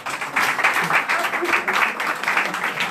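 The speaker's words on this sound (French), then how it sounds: "Il faut les applaudir." An audience applauds hairdressing graduates at a hair school show and diploma ceremony, with steady, dense clapping from a crowd that holds for a few seconds.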